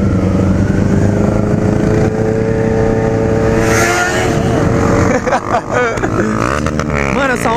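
A Honda Hornet motorcycle races nearby in a street run, its engine revving and accelerating hard with rising pitch, while voices talk over it.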